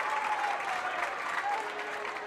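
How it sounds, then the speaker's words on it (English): A crowd applauds steadily at a high school football game between AC Flora and Chapin, cheering the AC Flora defense with a dense, sustained wash of clapping from the stands, with faint voices mixed in. "Let's give that defense from AC Flora a big round of applause"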